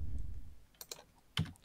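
Keys pressed on a computer keyboard while playing a game, a few sharp clicks and taps spaced apart, fairly close, with low rumbling handling noise at the start and no talking.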